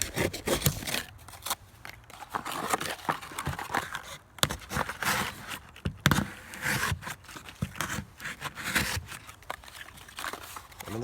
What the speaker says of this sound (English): We'll open this up and just show you what it looks like cutting some cardboard.